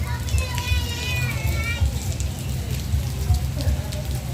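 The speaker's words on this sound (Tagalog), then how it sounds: "Oh, lakas ng ulan dito." Heavy rain pattering steadily on a surface, with a person talking over it and children's voices in the background.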